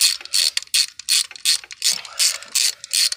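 A ratchet wrench clicks in a steady, rhythmic run of close, sharp pawl clicks while snugging spark plugs into a 2002 Dodge Neon 2.0 engine during a tune-up.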